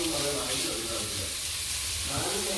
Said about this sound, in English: sauteing this ginger until the ginger gets really brown, not like dark brown, but you can see it gets really crispy